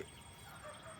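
A free-ranging flock of red jungle fowl crossbreed chickens clucks softly and steadily, close by, for a brief moment with no voices.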